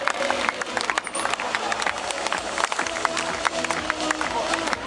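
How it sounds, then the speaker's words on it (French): At an urban motorcycle trial event in Cahors in 2015, a crowd applauds a rider with dense, steady clapping and a continuous background murmur of spectators. "il va falloir l'encourager et l'applaudir jusqu'à la sortie de la zone"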